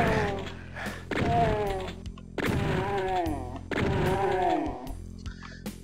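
Three heavy single-barrel shotgun blasts from DOOM 2 go off roughly a second apart, each a loud, close boom followed by a pumping reload rattle.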